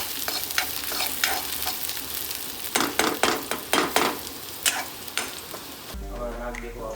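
Maggi noodle ingredients are stirred in a pan over a low flame, with a steady soft sizzle and a quick run of scraping, clinking strokes. Near the end the stirring gives way to a low hum.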